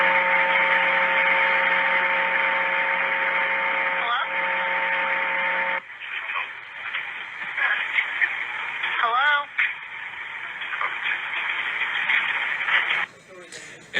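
A recorded phone call filled mostly with static: a steady hiss with faint humming tones for several seconds, then a thinner, crackling noise broken by brief warbling chirps until it cuts off.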